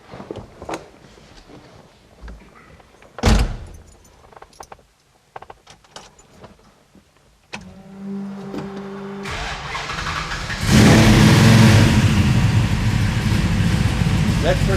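A hot rod's engine cranks and catches about midway, then runs loud and steady with a rough, growling idle, preceded by quieter clicks and handling noises, with people talking nearby.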